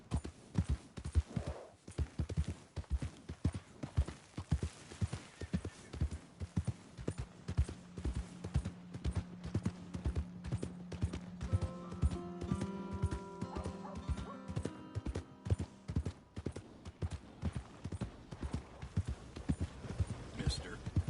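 Horse hooves clip-clop steadily and close in Red Dead Redemption 2, a rapid continuous rhythm throughout, with a brief whinny partway through and voices speaking over the trotting.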